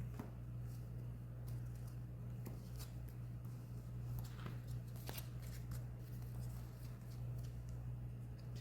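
Yu-Gi-Oh cards being shuffled back into a deck: soft, faint papery riffles and taps, close by, over a steady low hum with no talk.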